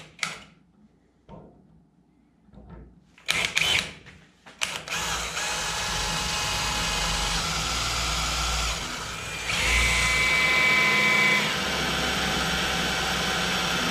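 Power drill with a half-inch bit boring into a truck service body, starting with a few short bursts and then running steadily and loudly for several seconds, with no talking.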